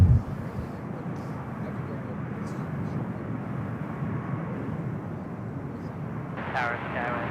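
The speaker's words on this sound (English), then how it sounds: "Delta Airlines flight 8888 heading to Dulles, 757 at 200. Looks like it's the next takeoff on 28 right." A Delta Airlines Boeing 757 on its takeoff roll at San Francisco airport, a steady broad engine roar heard from a distance, with radio chatter over it.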